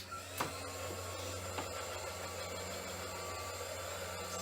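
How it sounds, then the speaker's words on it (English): A small handheld blow dryer runs steadily on freshly painted wood for an Easter porch leaner, a continuous even whir with a faint click near the start, no voices. "Actually, I'm gonna use a little blow dryer here."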